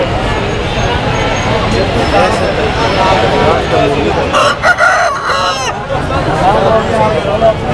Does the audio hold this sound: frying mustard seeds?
no